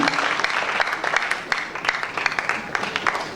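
A church congregation claps together during a Sunday sermon service after a scripture reading, a steady, dense wash of hands that runs the whole stretch at moderate level with no voices on top.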